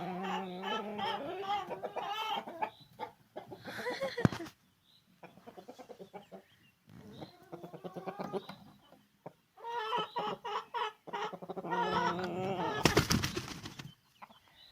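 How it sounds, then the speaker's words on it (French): A big rooster crowing and clucking near a chicken coop, several drawn-out, harmonic calls in bursts with short pauses between them, close and fairly loud, with a sharp noisy burst near the end. "Oh, ça c'était le gros coq."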